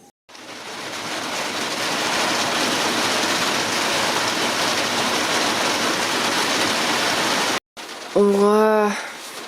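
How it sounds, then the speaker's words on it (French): Steady broadband rain falls through the night for about seven seconds at a campsite in Asturias, loud and continuous, then cuts out briefly before a whistling or chirping voice-like sound closes the clip. "il s'est mis à pleuvoir"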